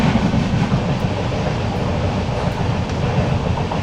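A Konkan Railway train runs along tracks beside the Jagbudi river in monsoon country, a loud, steady rumble of wheels and carriages with faint rhythmic clatter, close and continuous, without talk.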